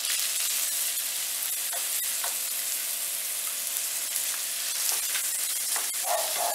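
Chopped onion fries in hot oil in a pan, a continuous close sizzle with scattered crackles and a few faint stirring clinks, and nobody talks.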